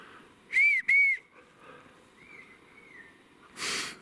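Whistling in the woods: two sharp, high whistles in quick succession close by, then a fainter, drawn-out sliding whistle and a short burst of rustling noise, with no talking.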